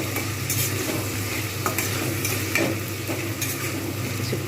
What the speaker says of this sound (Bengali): হ্যাঁ, সে একটু নেড়ে তুলে নেবো।